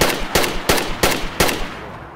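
Gunshots in the video game DayZ: five loud, close shots fired at an even, steady pace, each cracking sharply and then trailing off, with no talking.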